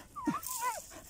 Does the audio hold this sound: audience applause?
no